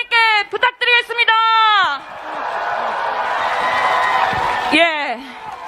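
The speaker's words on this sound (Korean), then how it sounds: "여러분, 큰 박수 후보님께 부탁드리겠습니다." A crowd at a presidential campaign rally for Lee Jae-myung in Namyangju breaks into dense, sustained applause and cheering after an amplified voice speaks. The roar carries on for several seconds before the loudspeaker voice returns over it.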